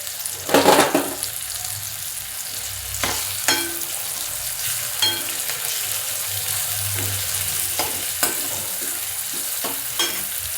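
Ginger paste, green chillies and curry leaves sautéing in a pan with a steady close sizzle, punctuated by sharp spatters and a louder crackle as ingredients hit the oil early on, stirring clicks throughout.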